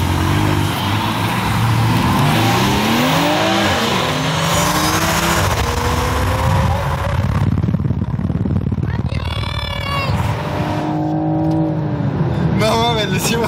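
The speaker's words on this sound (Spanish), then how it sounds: "este es de esos coches engañosos que no suenan mucho, no son muy ruidosos, pero andan duro" A car engine revs and accelerates hard in a Mercedes-AMG A45 versus Toyota Supra run, pitch climbing through several gear changes, with a squeal of tires and people talking over the noise.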